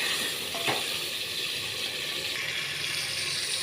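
Tadka spices sizzling in hot frying oil in a village kitchen in Pakistan, a steady bright hiss that fills the whole stretch at moderate level with a faint clink near the start and no talk.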